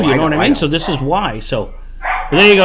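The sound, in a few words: dog barking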